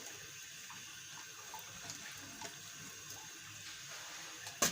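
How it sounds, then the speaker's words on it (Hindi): Water pours steadily into a pot of rice for biryani, a continuous near splashing and gurgling stream with a sharper splash at the very end. "अब इसके साथ हम इसमें ऐड करेंगे पानी।"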